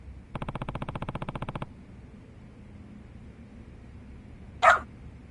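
A dog in a video game gives a quick, rhythmic run of yips lasting just over a second. Quiet ambience follows, and a short, sharp burst of noise comes near the end.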